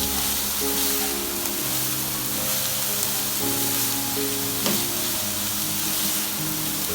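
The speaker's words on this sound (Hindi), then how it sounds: "अब हम इसमें डालेंगे बंद गोभी, 1 बाउल। 1-2 मिनट के लिए हम इसको भी फ्राई करेंगे।" Cabbage and mixed vegetables fry in a pan for an aloo chicken roll, a steady close sizzle and crackle with faint stirring clatter throughout and no talk.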